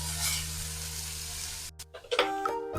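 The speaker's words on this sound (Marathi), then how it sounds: "आपली मेथी परतत आहे" Fenugreek leaves sautéing with crushed garlic in a pan produce a quiet, even sizzle that stops partway through, followed by brief clinks and a ringing, chime-like tone.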